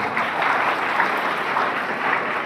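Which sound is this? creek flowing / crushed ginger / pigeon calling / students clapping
students clapping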